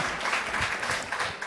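A short, dense burst of steady applause from the audience at the THEC 2 panel with Robert Carlyle and Emilie de Ravin, with no pauses or talk over it.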